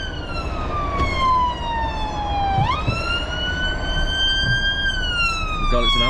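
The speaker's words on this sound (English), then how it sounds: "Oh God, it's an ambulance, it's not good." An ambulance siren wails on the M6 motorway during traffic held up by an accident, a loud close tone sweeping down and then up over steady road rumble.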